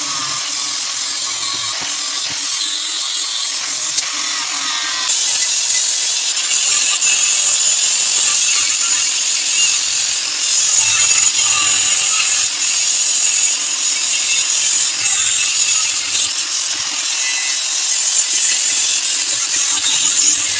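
Homemade metal chop saw built from a 230 mm angle grinder cutting through metal, a loud, continuous high-pitched grinding whine that holds steady for about twenty seconds with no talk.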